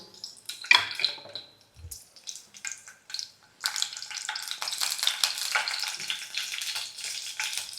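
Green chilies frying in hot oil for an egg curry, close bursts of crackling sizzle that start and pause, then settle into a steady loud spattering hiss.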